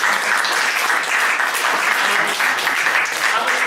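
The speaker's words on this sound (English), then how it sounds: "So I want a round of applause for that" Audience applause following a sound art performance, a steady dense wash of clapping from many hands sustained evenly throughout with no voices over it.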